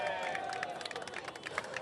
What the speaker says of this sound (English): we have a little round of applause here for fans on the water with a little baby Stanley Cup